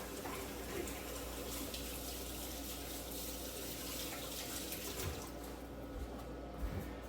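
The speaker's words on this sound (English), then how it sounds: "I'm gonna give my hands a quick wash just in case I touched anything" Hands being washed under a running kitchen tap, a steady rush of water splashing into the sink throughout, close and continuous with no talking.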